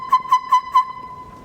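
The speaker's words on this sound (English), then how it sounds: "you'll hear kind of a whistle sound, and that's because our backflow preventer here on the bottom is opening" A backflow preventer valve at the bottom of a drinking fixture gives off a thin, steady high whistle, pulsing in four quick beats before it holds as a faint tone.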